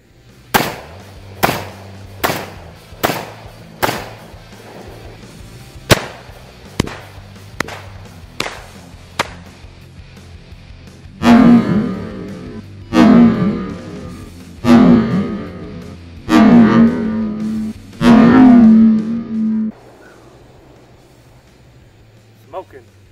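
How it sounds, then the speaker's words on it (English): A shotgun fired at pumpkins outdoors with birdshot, buckshot and slugs: about a dozen sharp, loud reports spaced a second or two apart, the later blasts heavier and longer with a booming tail. "It was a whole lot of fun shooting those pumpkins."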